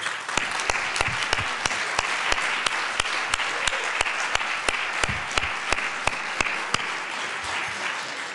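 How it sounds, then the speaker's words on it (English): Colorado House legislators give a standing round of applause to Colorado National Guard members in the chamber, steady moderate clapping lasting several seconds with distinct individual claps heard throughout. "if we could just rise and give them a round of applause for their work"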